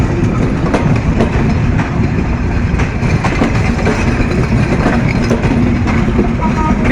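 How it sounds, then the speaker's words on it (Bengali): A train pulls slowly out of Joydebpur station in the evening with a loud, continuous rumble and rhythmic clickety-clack of wheels over rail joints, heard from close by. "জয়দেবপুর স্টেশন থেকে আস্তে আস্তে ছেড়ে যাচ্ছে"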